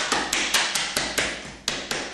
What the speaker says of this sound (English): And using your hammer, you just knock them out.